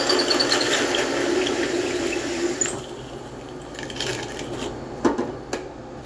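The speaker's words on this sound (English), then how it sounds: "I'm sorry if the drill press is a little loud." A drill press bores into dried drinking gourds, giving a steady whirring, grinding drone that runs throughout with a few sharp knocks near the end.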